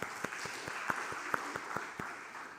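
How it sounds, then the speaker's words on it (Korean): Church congregation at an early-morning service applauding, a short burst of scattered claps from a small group. "용인 지키느라고 수고하셨다고 새벽이지만 박수 한번 쳐주세요."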